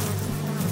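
Bees buzz steadily around a pepper plant in an animated jungle scene, a close, continuous drone with a low hum running evenly through the short moment.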